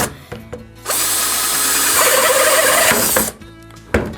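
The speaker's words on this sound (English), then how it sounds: "Now what I'm going to do is drill a couple overflow holes" A power drill spins up and bores through a plastic 5-gallon bucket for a couple of seconds with a harsh, rasping whine, then stops; brief clicks before and after.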